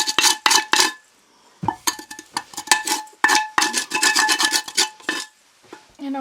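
A metal spatula scrapes burned cookies off a pan in repeated rasping strokes, loud and close, separated by brief pauses.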